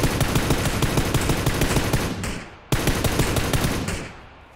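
Automatic gunfire in the PUBG battle-royale game: loud, dense rapid-fire bursts that run continuously, fade briefly, then restart sharply for a second sustained volley, with no talking.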